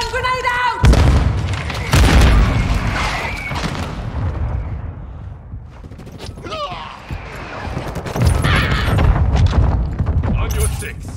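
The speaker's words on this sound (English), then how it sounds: "Stun grenade out!" Stun grenade blast in Call of Duty Modern Warfare 2 multiplayer: sharp booms and bursts of gunfire stand out over shouted in-game voice callouts, then fade into a quieter stretch before more loud hits arrive.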